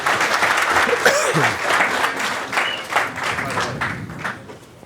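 A sympathetic crowd at the 2012 US Open 9-Ball Championship pool match applauds steadily, with some cheering and chuckles mixed into the sustained clapping, fading slightly toward the end.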